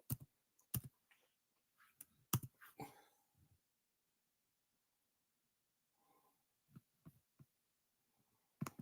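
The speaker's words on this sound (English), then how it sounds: "keep typing in the wrong thing on the goddamn computer" Someone typing on a computer keyboard, bursts of close clicking keystrokes with quiet gaps between them.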